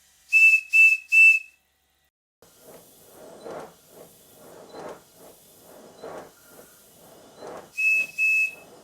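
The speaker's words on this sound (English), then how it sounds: "I keep blowing the whistle to show you that it's running on low pressure" A model steam locomotive whistle, running on low pressure of about 30 psi, sounds in three short, shrill blasts, then a stretch of chuffing exhaust beats, followed by two more whistle blasts, close and loud.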